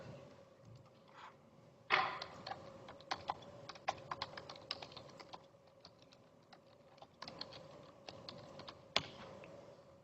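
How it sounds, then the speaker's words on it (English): Touch typing on a computer keyboard in a quiet room: a fast, uneven run of light key clicks with a few sharper, louder strokes, close by and without talk. "See how good my touch typing is."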